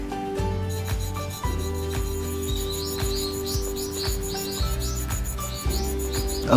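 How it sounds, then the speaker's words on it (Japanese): A Japanese sword blade is rubbed back and forth on a whetstone, with a steady rhythmic rasping of repeated strokes at moderate volume. Faint bird chirps come through in the background. "こういうふうに黒く磨いていくわけ。"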